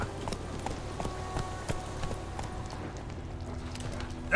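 Geralt's horse Roach from The Witcher 3 clip-clops along in a steady rhythm of hoofbeats, each hit distinct and moderately close, over a low ambient bed.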